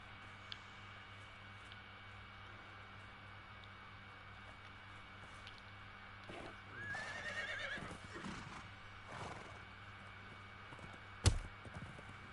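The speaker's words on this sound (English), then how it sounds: "there ain't too many bases where you can ride around on your horse" A horse in the Conan Exiles video game whinnies loudly near the middle, with soft hoof clip-clops and faint ambient game sounds around it, then a sharp click near the end.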